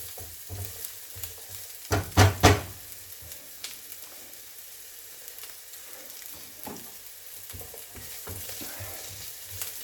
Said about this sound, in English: Saute them a bit.